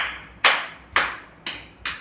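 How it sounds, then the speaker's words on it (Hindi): Four slow, evenly spaced claps ring out loud and close, each a sharp burst that fades quickly, as a classroom group of children applauds a girl named Sonakshi. "तो सभी सोनाक्षी के लिए तालियां बजाओ।"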